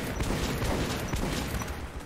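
Rapid, continuous video game gunfire in Metro 2033 rattles on throughout, dense overlapping shots with a constant low rumble.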